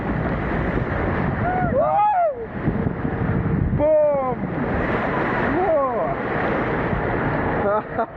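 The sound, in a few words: waves at man-made surf beach, Sunway Lagoon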